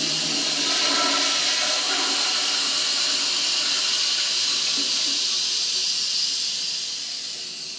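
A toilet flushes in a museum's basement men's restroom, a loud rushing hiss of water that holds steady and then begins to fade toward the end.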